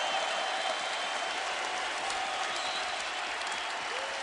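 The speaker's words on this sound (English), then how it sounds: "And Murphy, to the ovation of the crowd, goes to the bench." Sustained crowd ovation at a Minnesota Gophers college basketball season home opener as Jordan Murphy heads to the bench, broad steady cheering and applause filling the arena throughout, loud and continuous.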